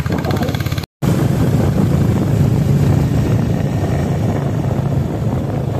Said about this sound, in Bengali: দারুণ বাইক চালাচ্ছে